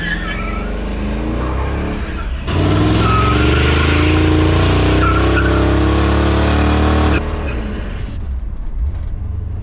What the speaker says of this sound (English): Much better burnouts.